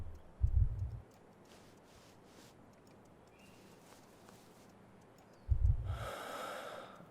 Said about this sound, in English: Okay, you're breathing.